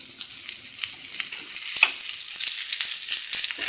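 Hot chili and green chili tempering for a Brown Mulligatawny soup sizzles sharply up close, a bright steady crackle with small pops and a few clicks, no talking.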